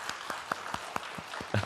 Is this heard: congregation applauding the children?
yes